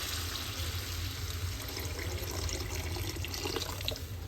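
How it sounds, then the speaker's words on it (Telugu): Water pours steadily into a pot of mutton curry being cooked in an open pot, a continuous close splashing rush that lasts the whole time with no talking. "ఇప్పుడు దీంట్లో వాటర్ యాడ్ చేద్దాం."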